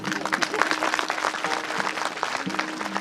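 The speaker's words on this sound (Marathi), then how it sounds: "आता तरी टाळ्या वाजवा बाबा" Audience applause at a devotional kirtan session in Alandi, a steady wash of many hands clapping close by, continuous and fairly loud for the whole stretch with faint murmuring voices mixed in.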